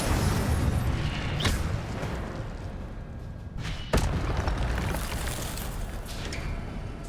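An Incendio fire spell in Hogwarts Legacy goes off as two booming bursts a few seconds apart, each a sudden thud that rolls out over a constant loud roaring rumble, with no voices.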